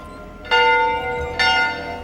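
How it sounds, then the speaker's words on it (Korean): A village church alarm bell clangs twice, each strike bright and loud, its tone ringing on between hits. "종이 울리자 대피하기 시작하는 마을 사람들."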